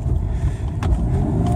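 A 1997 BMW M3 with the 3.2-litre engine idles close by, a deep, steady low rumble with a slight lift partway through and no talk.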